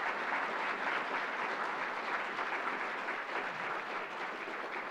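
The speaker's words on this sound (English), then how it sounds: "Let us give you a round of applause." A crowded audience applauds the planning committee, a full, steady roar of clapping that holds at even strength for several seconds, heard alone without talk.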